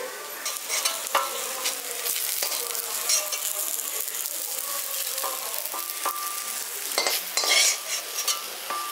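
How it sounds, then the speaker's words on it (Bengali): Lightly fried eggplant pieces are lifted out of hot oil, with continuous close sizzling punctuated by scraping and clinks of a utensil against the pan. "বেগুনগুলো এখানে আমি হালকা করে ভেজে নিয়েছি। এবার বেগুনগুলো আমি তুলে নিচ্ছি।"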